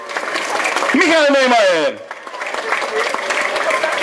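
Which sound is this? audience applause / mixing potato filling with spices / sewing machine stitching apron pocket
audience applause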